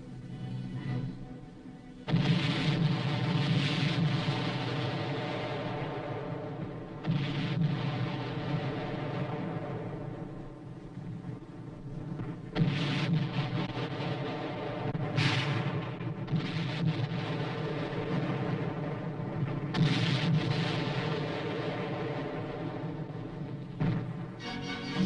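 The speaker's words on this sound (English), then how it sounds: "the infantrymen prepare to blast the Reds from still another hilltop with coordinated fire" Artillery fire and high explosive shells pound a hilltop during the Korean War, a string of heavy booms and rumbling blasts spaced several seconds apart over a continuous roar.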